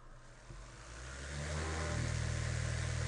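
A 4,000 RPM electric motor on an InstaSPIN-FOC LaunchPad and BoosterPack setup accelerating past its rated speed, its steady hum rising in pitch and growing louder until it settles into a constant high whir.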